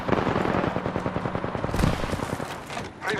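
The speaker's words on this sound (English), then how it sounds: "Opening fire on the enemy." Rapid automatic gunfire rattles in dense, loud bursts during an Apex Legends match, with a few heavier shots mixed in, tapering off briefly near the end.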